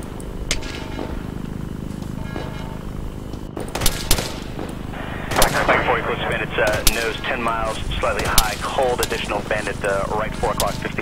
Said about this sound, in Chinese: 注意射击目标，我们只射击那个